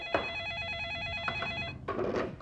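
A telephone rings indoors during a meal, with a steady electronic trilling tone sounding alone, cutting out, and then a short shuffle of movement nearby.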